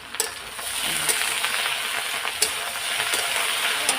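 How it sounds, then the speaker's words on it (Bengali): Sliced potatoes fry in a pan as they are stirred, with a soft steady sizzle and several sharp scraping clinks of the utensil against the pan, fairly quiet and with no talk. "ততক্ষণে ভাজাটা একটু নাড়াচাড়া দিয়ে নিই"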